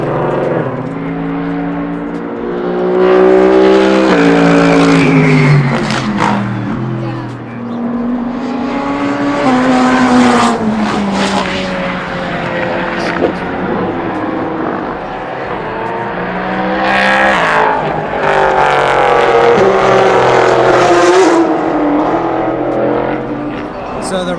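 Rafa's McLaren race car laps a time attack circuit, its engine revving hard in rising and falling sweeps as it accelerates, shifts and passes by, loud and fairly close, with talk over it at times.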